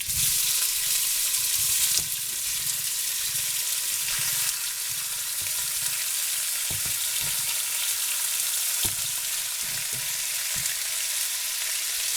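Beef fries in hot oil in a pot, giving a loud, continuous sizzle with occasional clinks and stirring sounds and no one speaking.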